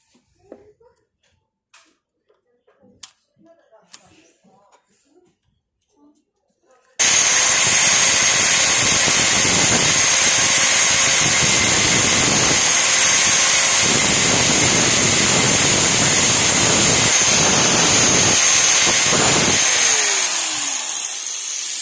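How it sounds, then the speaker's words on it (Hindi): An angle grinder or similar power tool cuts a metal plate at a slant for a bicycle chain repair, a loud sustained whine running almost continuously for about 13 seconds with brief dips, after quiet handling sounds. "इस प्लेट को लगाने के लिए हम थोड़ा तिरछा काट देते हैं"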